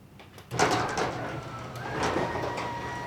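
A residential garage door, triggered by a WiFi controller button, starts closing with a sudden mechanical clunk followed by a steady motor drone and a rising whine that continues to the end.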